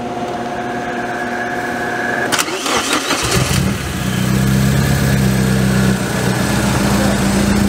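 A Honda car engine cranks and catches with an unplugged faulty sensor, then settles into a loud, steady rough idle close by.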